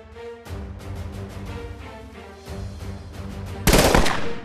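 Twin pistols fire in the VR shooter Operation Serpens: rapid, steady bursts of gunshots in quick succession, loud and close, ending in a sharp, denser blast of fire.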